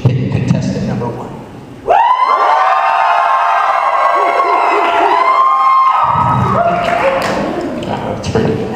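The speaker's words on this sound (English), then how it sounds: "with a loud scream, how many people think" A live audience at a Dating Game comedy skit lets out a loud, sustained scream and cheer that swells suddenly and holds for several seconds before fading back under talk.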